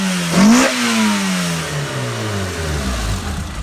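A 1992 Honda Accord engine, set up as a track build, gives a brief rev that settles back to a steady, fairly loud idle.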